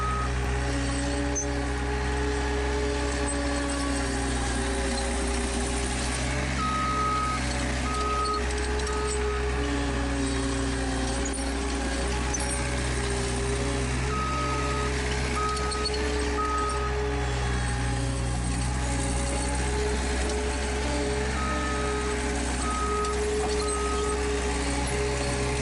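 A skid steer with a tree spade drops a plug of dirt, its diesel engine droning steadily and loud throughout, with a faint intermittent beeping tone repeating over the engine noise; no speech.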